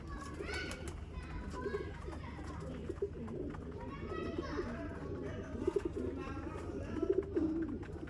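Red-eyed breeder pigeons coo softly in a busy outdoor setting at a home, with children's voices and chatter layered over continuous background noise.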